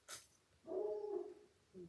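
A dog barks indoors at a visitor: one short sharp yip, then a drawn-out whining bark and a final brief bark, moderately close and fairly quiet, with no talking.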